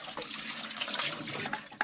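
Water pours steadily into a container while mixing homemade dishwashing liquid, a close, continuous splashing rush with a slight bump near the end.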